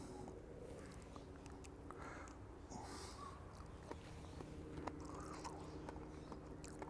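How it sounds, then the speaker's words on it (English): Self-heating crinkle cut fried potatoes being chewed close up, soft irregular mouth sounds with a few faint crunches and a sniff over a steady background hiss. "That feels like I am eating a really, really undercooked French fry."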